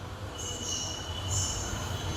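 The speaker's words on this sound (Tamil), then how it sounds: "மக்களே, ட்ரெயின் வந்துருச்சுங்க." A Hyderabad Metro train pulls into the platform, giving a steady rumble under high, sustained wheel squeals that swell near the end.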